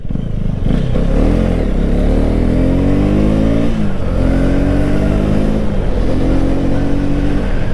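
A KTM Duke 250 motorcycle engine on a test ride revs and pulls hard through rising and falling gears, loud and close throughout with steady wind and road noise.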